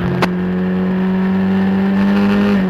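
Race cars in a Skip Barber National race at Lime Rock drone along in a steady, sustained engine tone with a brief sharp burst near the start, running close together with no voices heard.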